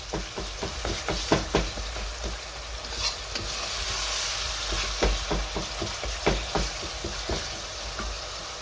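Ground meat for sloppy joes sizzles in a pan, with a steady close frying hiss broken by repeated scraping, knocking stirs of a utensil against the pan.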